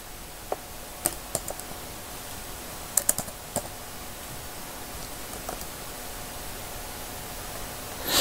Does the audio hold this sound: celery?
no